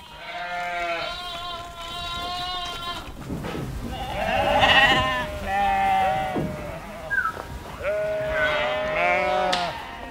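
Ewes on a farm bleat repeatedly at close range, several overlapping calls of varying pitch in a steady stream with some background noise.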